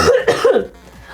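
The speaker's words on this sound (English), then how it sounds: "I'm gonna cough." A man with a lingering cold coughs a few times in quick succession, loud and close, then it trails off into quiet.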